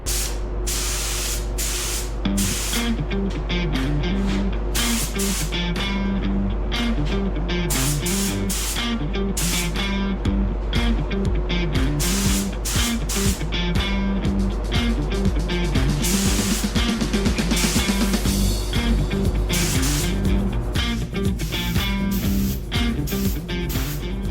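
Continuous spray-gun hiss while a second coat of paint goes onto a 1997 Ford F250 truck cab, steady and loud with a constant droning hum underneath and slight pulsing as the gun moves.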